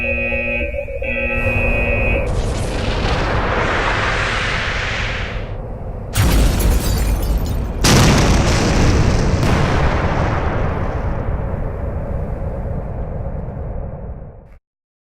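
Turn-based tank cannon shots and explosions in the shareware artillery game Pocket Tanks, loud and dense throughout, with a sharp blast breaking in midway and a rumbling, crackling barrage continuing until it cuts off.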